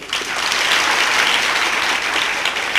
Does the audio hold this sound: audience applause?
yes